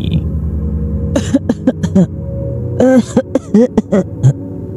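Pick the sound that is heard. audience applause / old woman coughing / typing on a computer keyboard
old woman coughing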